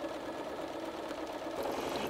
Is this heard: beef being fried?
no